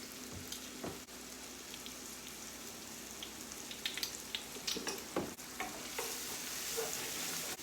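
Onions frying in a pan on the stove as a steak dinner is cooked, a soft continuous sizzle broken by scraping stirs and small clatters, faint and close, with no voices.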